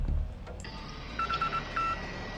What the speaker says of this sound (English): you'll get a beeping sound and activation sound